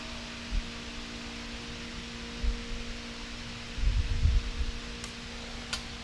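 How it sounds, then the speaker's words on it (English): An electric fan runs in a hot shed as a steady whir and low hum throughout, with a few soft knocks and thumps from nearby work and no talking. "Sorry about the fan in the background today guys"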